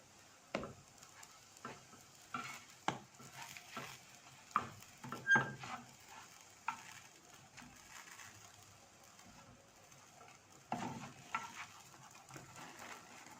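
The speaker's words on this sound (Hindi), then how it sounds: "इसी तरह आपने सारी ब्रेड गर्म कर लेनी है" Bread warming on a pan lightly coated with oil for homemade open shawarma gives a faint, soft sizzle broken by scattered light taps and clicks, quiet throughout with no talking.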